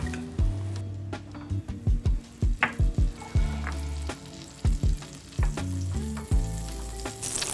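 Butter sizzles steadily in a pan as a base for Thermidor sauce, with frying crackle running throughout and repeated sharp thuds and clanks of utensils close by.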